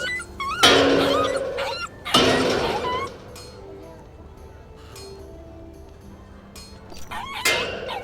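Dog whimpering in the video game The Inquisitor, several high whining bursts with pauses between them, fairly close and loud, with a faint backdrop in the quiet stretches.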